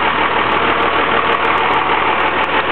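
A 1997 Dodge Ram 3500 4x4 dump truck's 12-valve turbo Cummins diesel runs steadily at idle, a loud, constant rumble with a dense roar that never changes for about three seconds, with no talk.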